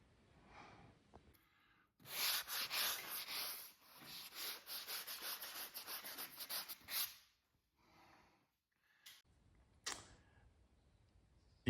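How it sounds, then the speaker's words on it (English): Sanding a filled wall surface by hand: rhythmic back-and-forth abrasive rubbing strokes in two sustained runs of several seconds, fairly close, followed by quieter scattered scrapes. "So now we're gonna sand it"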